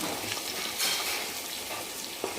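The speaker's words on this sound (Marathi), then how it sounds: "आणखी तर्री सुटण्यासाठी आपल्याला दोन मिनिट छान तेलावर परतून घ्यायचं" Chicken masala stir-fried in oil for a rustic village-chicken black curry gives a steady close sizzle with scraping stirs throughout, no voices.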